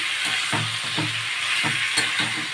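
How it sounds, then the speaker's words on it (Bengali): Boneless chicken pieces fry in a pan with a steady bright sizzle, punctuated by soft periodic scrapes or stirs about every half second. "একটু ভাজা ভাজা মাংসটা কষানো করব"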